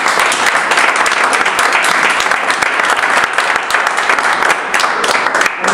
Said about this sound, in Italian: che accolgo con un applauso.